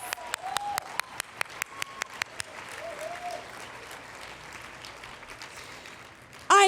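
At the 2025 Women of Influence awards gala in Nanaimo, a few sharp, evenly spaced nearby claps open the applause. A softer, sustained crowd applause follows, then a brief louder sound near the end.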